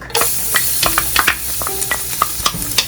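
Garlic dropped into one to two tablespoons of hot olive oil in a pan, crackling and sizzling loudly with sharp pops and stirring scrapes, close and alone.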